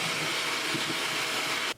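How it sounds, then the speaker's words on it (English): A vacuum cleaner runs with a steady loud whine and airflow hiss while sucking debris off a bathroom floor during a renovation, then cuts off abruptly near the end. "Let me vacuum this up."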